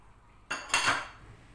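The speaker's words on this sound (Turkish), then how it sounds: "Bunları biraz karıştırıyoruz." A spoon scrapes and clinks in a pot of milk, sugar and starch being mixed, one short close burst of metallic stirring rising and fading within about half a second.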